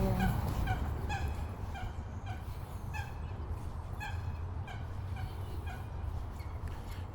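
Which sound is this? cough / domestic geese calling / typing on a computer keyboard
domestic geese calling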